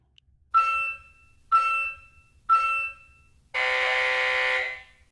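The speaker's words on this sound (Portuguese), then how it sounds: "ele emitiu aqui os 3 bips últimos" An LED multisport electronic scoreboard counts down with three short, evenly spaced beeps, one per second, followed by a longer, louder buzzing tone at the end.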